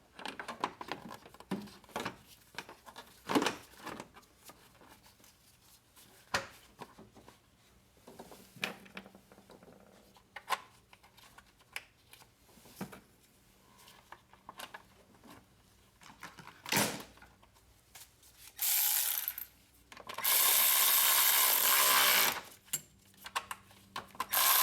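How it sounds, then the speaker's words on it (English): Work on fitting a radiator surge tank in an engine bay brings scattered close clicks, taps and clatter of parts and tools, then a couple of loud, sustained rasping bursts near the end; no one speaks. "So now I'm going to install the radiator surge tank."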